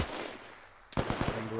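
A quick, close string of gunshots in the military shooter Arma, played in Zeus mode, cuts in after a short lull as several sharp cracks follow one another.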